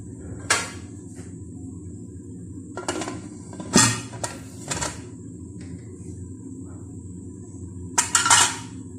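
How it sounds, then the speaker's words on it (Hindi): A metal pressure cooker clanks and clatters in a few separate bursts, with quiet gaps between, close by as it is handled and set down on a stove. "कुकर लगा लेते हैं।"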